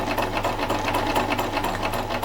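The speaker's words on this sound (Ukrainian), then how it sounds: "поставити на четвірку, і в мене вже голка буде ходити зігзагом" A Privileg Ideal 750 sewing machine running a zigzag stitch, a loud, steady, close mechanical whir with rapid needle chatter throughout, no pauses.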